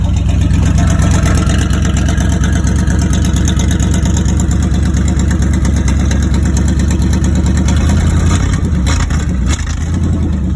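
A 1986 Chevy K10 Squarebody pickup engine idling just after a cold start, a loud, steady low rumble that holds an even pulse throughout, close up with no talking over it.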